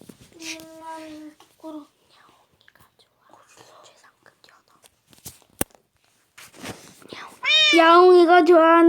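A cat meows in Minecraft: a few faint short mews early on, then a loud, drawn-out wavering meow close up at the end, with soft whispered voices in between.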